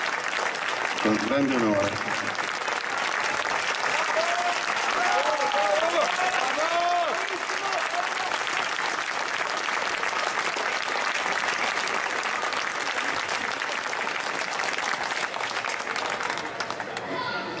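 An audience applauds a senator at a political evening in Novi Ligure, with dense sustained clapping filling the whole stretch, while someone speaks briefly near the start and short vocal sounds rise from the crowd.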